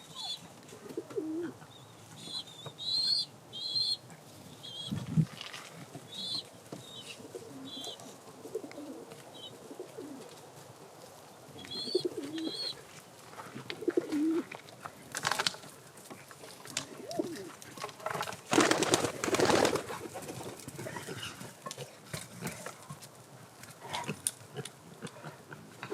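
Soft pigeon coos repeat at intervals in a performance loft, with occasional flutters and scuffling bursts as birds fight, fairly quiet and close, with no talking.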